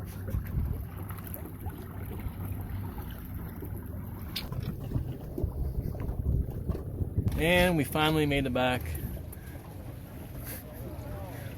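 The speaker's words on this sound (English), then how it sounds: "our only option is to use that trolling motor to get back" A small boat hums along on a quiet trolling motor amid steady wind buffeting the microphone, and someone speaks briefly partway through.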